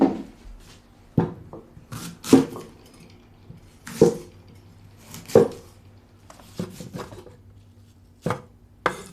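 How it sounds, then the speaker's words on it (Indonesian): A pear is cut on a cutting board with sharp, irregular knife chops against the board, close and fairly quiet, separated by short pauses. "Aku potong buah pir untukmu."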